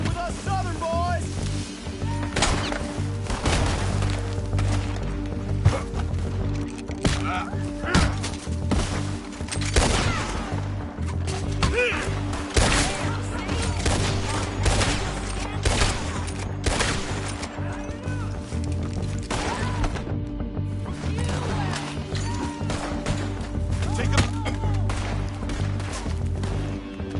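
Repeated gunfire in Red Dead Redemption 2 runs through a long firefight as scattered, sharp shots and bursts, some close and loud, over a steady low ambient rumble, with voices talking in between.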